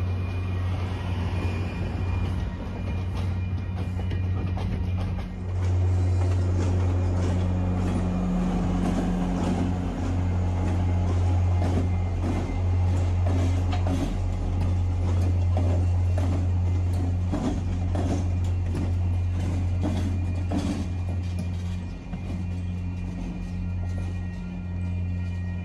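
An MBTA train hauled by new locomotives rumbles past at close range, with a steady loud low engine drone and rolling noise that swells and holds for the full length, with no talking.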